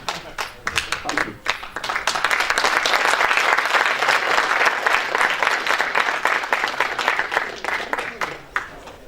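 A conference audience at BeeCon 2017 applauds a speaker after a talk on managing Alfresco source code. Scattered claps swell into sustained, loud, dense applause that fades slightly near the end, with some voices mixed in.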